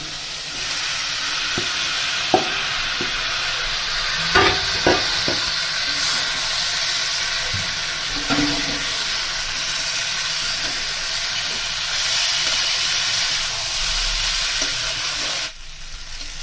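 Young jackfruit pieces stirred and sautéed in a cumin and chilli spice masala for an Indian prawn-jackfruit dish, with a steady frying sizzle and hiss throughout and occasional spatula knocks against the pan, close and alone without talk.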